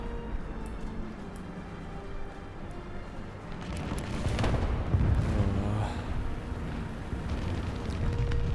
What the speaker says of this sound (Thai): แล้วก็เสียงระเบิดดังมากเลย